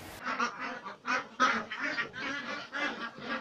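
A flock of laying ducks quacking continuously, many overlapping calls in rapid bursts, fairly close and steady.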